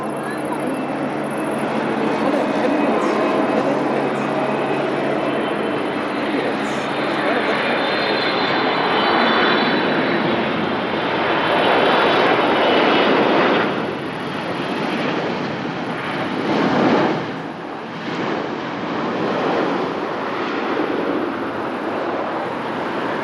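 A Boeing 777-300ER arriving from Dubai on short final into Lisbon, a loud, sustained jet engine roar that swells and dips as it passes overhead, with talk underneath.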